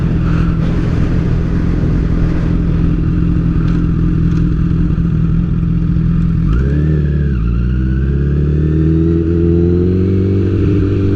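A motorcycle engine runs steadily and loud, then revs up sharply partway through and pulls away, the pitch climbing as it accelerates into continuous riding noise with no talk.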